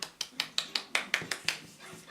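A small dog yaps in a rapid, evenly spaced run of about eleven sharp, high barks, close and fairly loud, in a dog contest setting.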